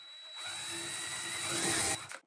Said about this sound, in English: What we want to do is get the drill started and make sure that we're perpendicular